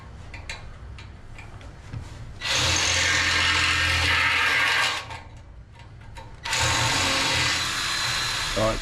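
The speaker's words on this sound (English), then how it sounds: "the drilling works just to get it down the bottom" Power drill boring into the metal of a trailer during a restoration, two sustained loud bursts of drilling of about two and four seconds, separated by quieter ticking and handling noise, with a brief voice between.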